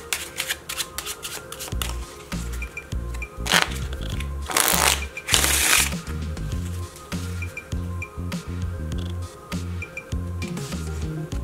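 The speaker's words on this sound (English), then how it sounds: "Take a deck of cards, shuffle it and discreetly peek at the bottom card." A deck of playing cards is shuffled up close in loud, repeated riffling bursts with crisp flutters and snaps, broken by brief pauses and handling clicks.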